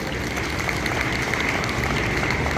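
Steady applause from an audience at a school seminar, dense clapping sustained throughout at an even level with no pauses.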